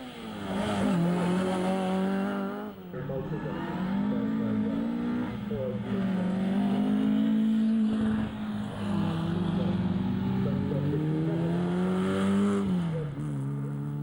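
Mark 1 rear-wheel-drive rally car driven flat out on a stage, its engine note loud and sustained, rising and falling through gear changes with brief dips as it lifts off.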